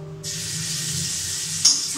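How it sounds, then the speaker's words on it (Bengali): Spice paste for a chhana curry hits hot oil left from frying potatoes and bursts into a bright, steady sizzle. A sharper spatter flares near the end. "এবার এটা আমি এই তেলের মধ্যে দিয়ে দেব"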